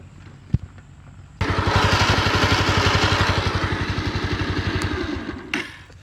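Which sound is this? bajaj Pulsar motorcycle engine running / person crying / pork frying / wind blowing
bajaj Pulsar motorcycle engine running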